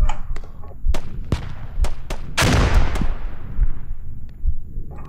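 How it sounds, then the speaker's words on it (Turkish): Bombs exploding during infantry combat in the video game Squad: a big boom with a long rumbling decay, surrounded by sharp isolated gunshot cracks and distant thuds, no speech. "Bombalar atıyorlar ya."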